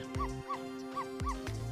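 A guard dog in the game Ghost Trick gives a series of short, yipping barks in a quick rhythm, layered over a steady synthetic background tone.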